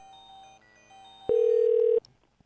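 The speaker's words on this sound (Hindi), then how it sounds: "फ़ोन रिंगिंग हो रहा है।" A single steady electronic ring tone sounds for under a second, loud and close, after faint background hum, then cuts off abruptly.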